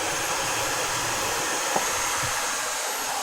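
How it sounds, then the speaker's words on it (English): A vacuum suction tool for removing LED display modules runs with a loud, steady airy hiss and whoosh, close by and continuous, with one small click partway through. "press this button, and by vacuum, the module will be taken out"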